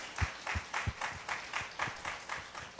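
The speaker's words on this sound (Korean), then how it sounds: "박수 한번 쳐줘봐요." A church congregation claps in a quick, even rhythm, about ten distinct claps in a few seconds, fairly quiet and heard alone.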